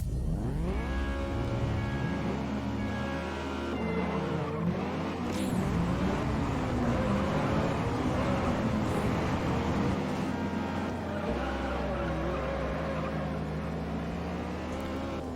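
An Integra in the Juiced racing game revs hard with sweeping engine pitch changes, gear shifts and bursts of tire squeal, loud and continuous throughout.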